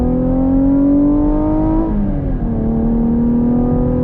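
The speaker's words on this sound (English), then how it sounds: "see how this RS with the V6 drives, but here we go, on throttle" A 2021 Chevy Camaro RS with a V6 and manual gearbox accelerating onto a highway, its engine droning loud and close, rising steadily in pitch, dipping at a gear change, then pulling again.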